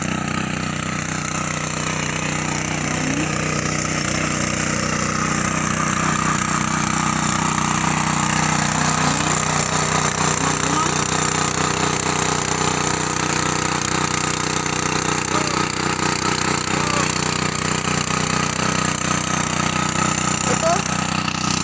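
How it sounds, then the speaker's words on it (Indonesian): A small tractor does rotary tilling in a shallot field, its engine a loud, steady drone with a churning rattle that holds evenly for the whole stretch. "ini bapak saya lagi merotari, memakai traktor kecil."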